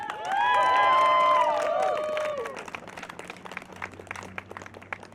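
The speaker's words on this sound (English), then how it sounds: "That was a beautiful round of applause." A crowd cheers and whoops loudly at a ceasefire vigil in Philadelphia, with rising and falling shouts, then it fades into scattered, sparser clapping that trails off near the end.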